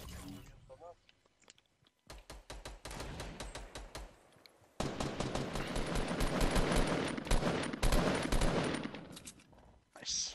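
Fortnite video game gunfire, dense rapid bursts of automatic shots near and loud, with a pause and then sustained fire, while someone speaks in Polish over it.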